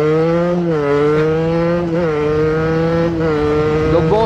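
A motorcycle ridden to break in new front and rear tires gives a loud, close, continuous engine drone whose pitch dips and rises slightly as the rider adjusts the throttle, with no talking.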